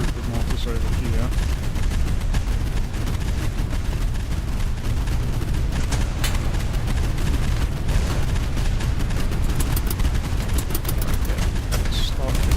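Mortar blasts and gunfire from the video game Boat Crew form a loud, dense, continuous barrage of overlapping shots and booms without letup.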